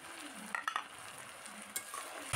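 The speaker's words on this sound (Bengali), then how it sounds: "দিয়ে দিচ্ছি দুটো ছোট সাইজের টমেটো আর তেজপাতা" Two small tomatoes and a bay leaf hitting hot oil with ginger, garlic, cumin and pepper paste in a village-style chicken and potato curry, a soft steady sizzle broken by a few clinks of a stirring spoon, with no voice.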